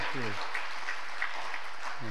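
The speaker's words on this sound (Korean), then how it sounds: "박수로 하나님께 영광 돌리고 격려하겠습니다." A church congregation applauds steadily, a dense continuous clapping that fills the space, with brief speech at the start and end.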